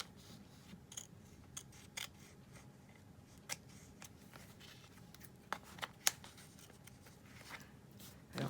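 Scissors snip through a piece of paper envelope during a craft project, with scattered short crisp cuts at an uneven pace, close and fairly quiet against a soft background hiss.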